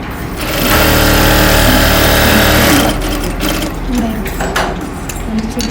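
Sewing machine stitching a seam on a pair of pants, a steady loud mechanical whir running for about three seconds before easing into lighter, intermittent stitching sounds.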